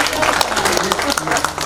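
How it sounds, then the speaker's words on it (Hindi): Audience clapping at a Hindi comedy show, a brief scattering of claps under and between a man's speech, fairly close and busy. "थोड़ी सी तालियां बजाइए,"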